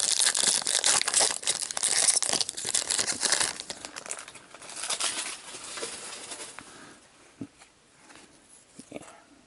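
A Yu-Gi-Oh! card pack wrapper is torn open and handled, loud, close crinkling and tearing foil that gradually settles into softer rustles and occasional crisp crackles.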